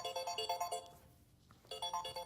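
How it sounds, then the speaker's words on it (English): A mobile phone ringtone rings in a lecture room, a bright repeating electronic melody that plays, pauses briefly, then resumes, fairly faint at a distance. "Whose phone is that?"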